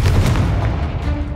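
A loud, deep booming blast rolls out from a Confringo fire spell in the Hogwarts Legacy video game, a single heavy explosion that fades over about a second.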